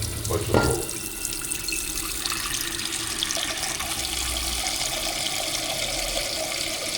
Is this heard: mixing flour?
no